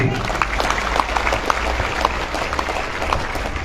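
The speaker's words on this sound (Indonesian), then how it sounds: "Tepuk tangan buat santri." A crowd applauds students of an Islamic boarding school at a National Santri Day celebration, a dense, even roar of clapping hands that fills the clip without pause.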